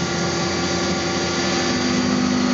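A milling machine roughs out a golf putter with a 69 degree lie angle, giving a steady, dense mechanical whine and hum that holds constant throughout, loud and close with no talk.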